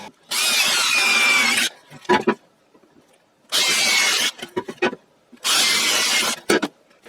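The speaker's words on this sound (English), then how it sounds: "now I need to drill holes to get my legs in place" A power drill bores holes in metal for the legs of a homemade wok burner, three loud, sustained whining bursts, each followed by short scraping and clattering as the bit is pulled out; no talk.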